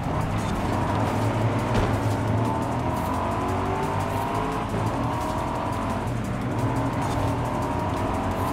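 A car engine in the open-world racing video game Forza Horizon 5, revving and shifting continuously with tonal whine and occasional tire noise, loud and close, with faint talk underneath.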